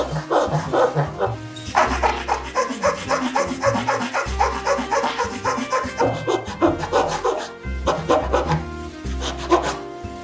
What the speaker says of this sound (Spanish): hasta que el serrucho ya vaya cogiendo y mordiendo madera